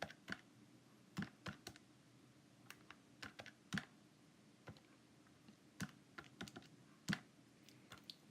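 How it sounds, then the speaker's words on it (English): Keys tapped on a calculator while working a maths exam problem: a steady, irregular run of close, crisp clicks over a faint background hiss, with no talking. "So if we type that into our calculator"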